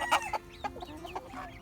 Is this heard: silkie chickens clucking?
yes